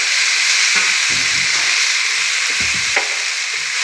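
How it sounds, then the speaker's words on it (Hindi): Mutton liver (kaleji) sizzles loudly in a pan with whole green chilies, a constant close crackling hiss broken by a few soft wooden stirring knocks. "माशाल्लाह से कलेजी को भूनते हुए मुझे 10 से 12 मिनट हो गए हैं।"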